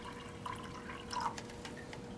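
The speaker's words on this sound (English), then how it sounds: "And I'm going to pour that in to this cup here." Deionized water being poured into a cup, with close, faint trickling and small splashy drips scattered through a quiet moment.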